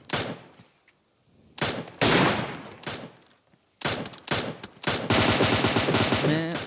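Gunfire in the mobile game PUBG Mobile Lite: loud bursts of rapid automatic shots separated by short quiet gaps, with a long sustained volley at the end.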